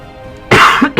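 A person coughs close to the microphone: a quiet pause, then one harsh cough, a brief rasp and another short cough in a quick burst.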